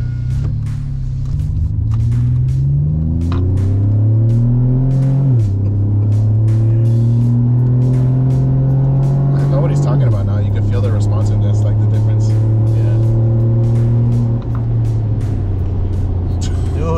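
A Chevy Colorado pickup truck with a MagnaFlow Overland Series exhaust revs repeatedly, deep rumbling rising and falling in pitch with each throttle blip, loud and close, with people talking over it.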